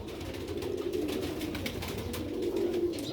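Sialkoti pigeons, a trio of sibling birds, give a steady run of soft, throaty coos that carries on for the whole stretch, close by with no voices.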